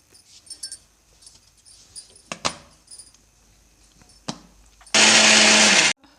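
Peanuts ground in a mixer grinder for chutney powder: a few light clinks and knocks of the jar being set, then a loud, steady, high whir of the grinder running for about a second before it cuts off.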